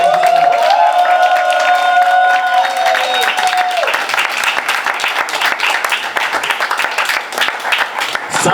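A comedy show crowd breaks into loud, sustained applause and cheering, dense close clapping with shouts over it, while a sustained tone fades out during the first few seconds.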